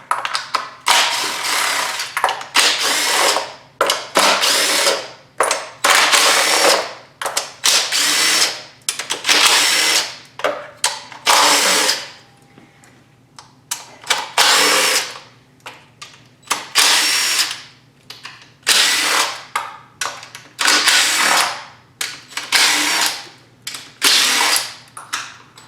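Power tool working on a 2017 BMW engine during valve cover removal, loud ratcheting bursts that start and stop repeatedly with short pauses between runs.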